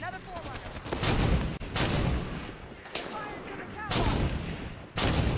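Heavy gunfire in Halo 5: Guardians, sniper shots among dense overlapping blasts and explosive booms, loud and continuous with sharp repeated cracks.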